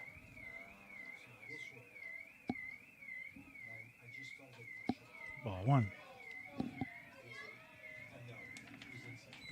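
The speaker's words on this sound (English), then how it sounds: "Car alarm going off." A car alarm wails steadily in the distance at an outdoor college baseball game, its warbling tone running under crowd noise, a bat crack and an announcer's commentary.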